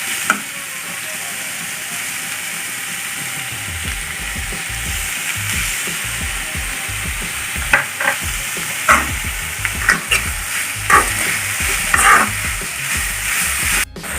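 Chopped onions sizzle steadily in a hot pan for a Kerala-style chicken curry, with a spoon or spatula stirring and scraping at irregular intervals; the frying hiss stays constant and close with no talking.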